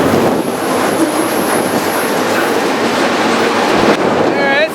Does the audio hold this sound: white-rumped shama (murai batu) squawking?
no